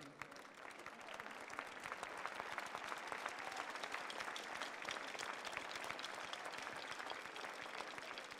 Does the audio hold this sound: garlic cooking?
no